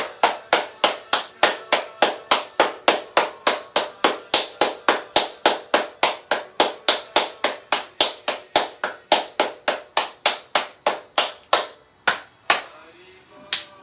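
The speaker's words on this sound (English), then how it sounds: "let's do a little bit of clapping" Steady rhythmic hand clapping during a qigong warm-up, about three sharp claps per second, loud and close, slowing and stopping near the end.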